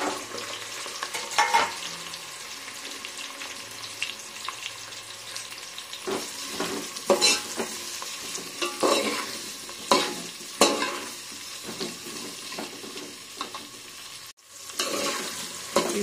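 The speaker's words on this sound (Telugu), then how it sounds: "తర్వాత పచ్చిమిర్చి, తర్వాత కట్ చేసి పెట్టుకున్న ఈ వెజిటేబుల్స్ కూడా ఒక్కొక్కటిగా దీంట్లో వేసుకోవాలి." Green chillies and chopped vegetables hiss and crackle in a hot pan while being fried for pappu charu, with irregular bursts of sizzling and stirring scrapes at moderate volume and no talking.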